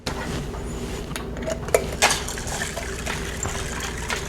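Matcha poured over iced lemonade of simple syrup, ice, lemon juice and water in cups, a soft liquid trickle with ice and glass clinks and a couple of sharp taps.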